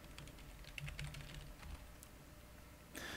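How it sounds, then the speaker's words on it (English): Computer keyboard keys tapped in a quick run of soft, close clicks as a password is entered, faint and alone, ending in a short louder burst. "type the password we configured"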